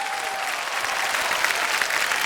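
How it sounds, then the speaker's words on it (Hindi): A TV quiz show studio audience on Kaun Banega Crorepati claps steadily, a dense wash of applause sustained throughout without pause. "तालियां बज जाएं उनके लिए।"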